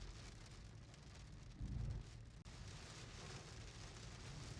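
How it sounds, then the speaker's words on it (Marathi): Heavy monsoon rain falls around the foggy, green hills of Amboli, giving a dense, continuous hiss with a low rumble beneath and a short, louder swell partway through. "आंबोलीत ना कायम असा दगड मारल्यासारखा पाऊस असतो"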